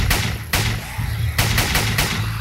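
Gunfire from a gun in the zombie video game Dead Walking (Zomborg): several loud, sharp shots in an uneven burst over a low rumbling game background.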